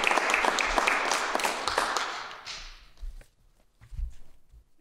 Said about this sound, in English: let's celebrate our class, our graduates of 2020 with thunderous